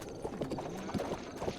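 A horse's hooves clip-clop in a steady trotting rhythm across ground in The Legend of Zelda: Breath of the Wild, with moderately loud, evenly spaced hoofbeats over ambient game sound.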